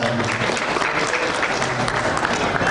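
An audience at the IEL International School closing ceremony claps in steady, sustained applause filling a hall, with a voice faintly present under the clapping.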